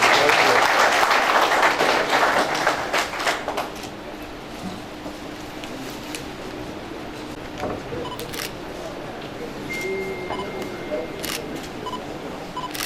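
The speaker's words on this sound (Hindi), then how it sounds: "ताली को कंजूसी न करें।" At a BJP welcome ceremony for a new district president in Rajsamand, the crowd claps loudly for a few seconds before the applause thins out, leaving low background murmur with occasional camera shutter clicks.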